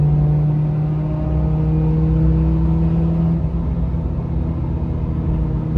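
Inside a moving Daihatsu Terios with a custom exhaust, a loud, steady engine drone hums under a constant tonal rumble, holding a fairly even pitch at cruising speed with no talking.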